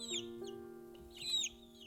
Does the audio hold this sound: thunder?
no